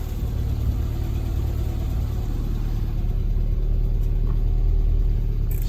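A Classic Mini engine idles while warming up after a coolant change, with the choke coming off. It makes a loud, even, close-up rumble that holds steady throughout, with no voices.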